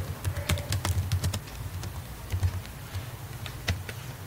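Code being typed on a computer keyboard, close and moderately quiet key clatter in quick bursts separated by short pauses, with no talking.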